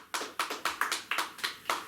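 Hand claps in a church congregation, about eight sharp, evenly spaced claps at a steady rhythm, fairly close and moderately loud, with no talk over them.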